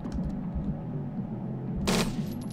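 Lawgiver Mark III pistol fire from the Judge Dredd video game at its firing range: a rapid rattle of close gunshots with a sharper, brighter burst near the end.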